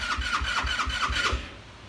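A brand-new 2021 Coolster 150cc ATV is started cold with the choke on: a rapid, rhythmic cranking with a thin squeal for about a second and a half, then the sound drops away quieter.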